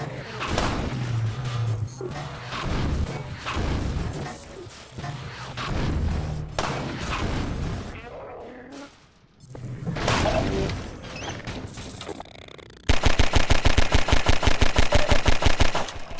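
Gunfire in Half-Life 2: Episode 2, bursts of shots and crashing impacts across the first half, a lull, then a loud sustained rapid machine-gun rattle in the final seconds.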